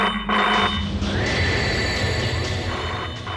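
A telephone that had been dead suddenly rings in a loud, steady electronic trill, its repeated bursts sounding close and filling the room with no voices over it.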